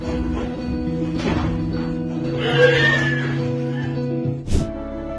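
A horse newly home from a clinic greets other horses, whinnying and neighing repeatedly, close and loud, with a long rising call in the middle and a sharp snort near the end.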